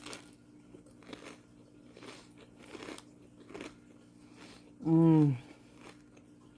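Someone bites into a fresh veggie sub sandwich loaded with avocado, making several soft, close crunching bites and chews before letting out a loud satisfied hum.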